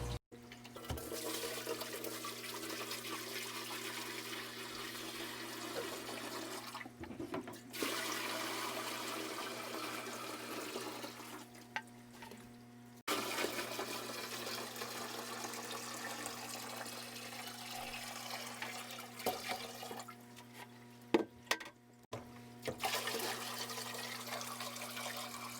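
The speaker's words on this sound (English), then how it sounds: "first step is to fill this up with water" Water pours steadily into a fry rearing aquarium tank, a continuous rushing flow that pauses briefly a few times, with a low electrical hum underneath and no talking.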